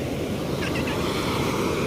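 Ocean waves wash in a continuous, broad rushing roar, moderately loud, with no voices.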